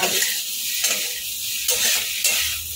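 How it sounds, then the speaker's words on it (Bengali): Pahari dum aloo, a vegetarian Bengali potato dish, frying in a pan as it is stirred, a loud steady sizzle punctuated by several sharp scrapes of the spatula. "ভালো করে নেড়ে চেড়ে নেব।"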